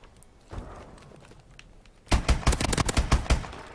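IMR assault rifle fire in the video game Advanced Warfare, a muffled shot early on and then a loud, close burst of about ten rapid shots in a steady rhythm, with no talk.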